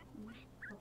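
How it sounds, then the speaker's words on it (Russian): A parrot in the Minecraft video game gives a quick, faint burst of chirpy squawks lasting under a second, with no talking. "Попугай."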